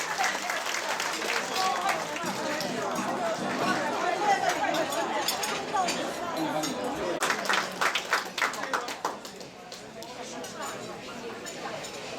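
Guests at a Lunar New Year banquet applaud warmly, steady clapping mixed with chatter that thins toward the end as scattered individual claps remain.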